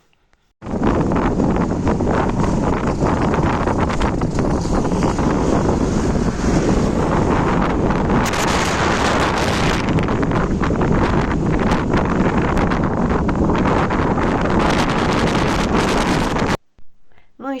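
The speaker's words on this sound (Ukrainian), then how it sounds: "як воно громихає це море, як воно штормить" A stormy sea off England roars with crashing waves and strong wind buffeting the microphone, a loud, continuous close-up rush that barely lets up before cutting off near the end.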